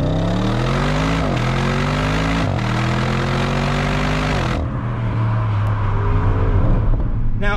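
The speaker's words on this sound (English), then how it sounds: "We have the 4-litre V8 bi-turbo engine with a mild hybrid system powering this" Audi RS7 with a 4-litre V8 bi-turbo engine and mild hybrid system, loud and close, revving up in rising strained pulls with gear changes, then settling into a lower steady drone as the car eases off.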